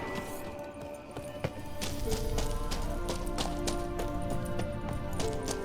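Horse hooves in The Witcher 3 clop in a steady rhythm, close and moderately loud, layered over game ambience and music with scattered sharper knocks.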